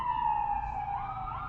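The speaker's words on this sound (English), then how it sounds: "It's probably an ambulance, though." An emergency siren wails outside at a distance, a steady rising-and-falling electronic tone sounding moderately loud over a low rumble of traffic.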